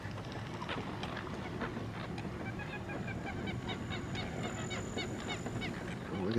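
A large flock of birds at Lake Apopka, Florida, honking and calling at a distance in a steady overlapping chorus over a low background rumble.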